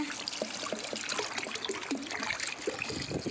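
Hot water trickles and splashes steadily from a pipe, a wet, bubbling flow with small drips and gurgles running throughout, fairly close and moderately quiet.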